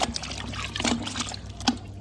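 Water mixed with vinegar is stirred by hand to soak a garment lining, giving a soft sloshing trickle with a few brief splashes, close up and fairly quiet.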